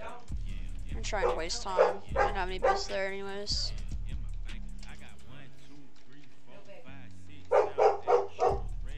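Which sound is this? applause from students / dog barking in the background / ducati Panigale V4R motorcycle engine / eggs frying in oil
dog barking in the background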